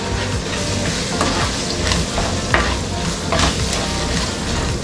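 Peanuts, cashews and pulses being stirred and roasted in a pan, with a steady close sizzle and frying crackle and scraping stir strokes running throughout, no talk.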